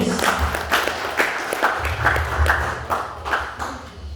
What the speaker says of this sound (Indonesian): Boleh berikan tepuk tangan yang lain buat Pak Nulis.